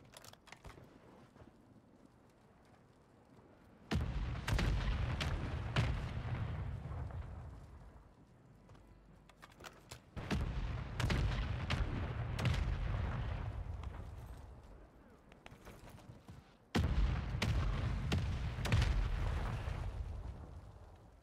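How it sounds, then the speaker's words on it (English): Mortar artillery shells land in Call of Duty Warzone as three loud, booming blasts a few seconds apart, each with a long rumbling tail that fades before the next impact. "Mortar incoming."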